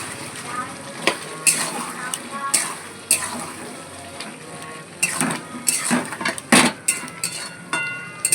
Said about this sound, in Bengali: মাংসটাকে কষাবো, আস্তে আস্তে কষাতে হবে